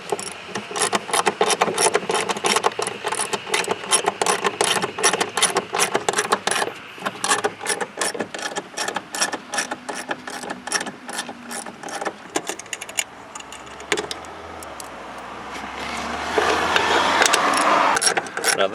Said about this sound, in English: So what we'll do is we'll undo this, these 2 10mm bolts.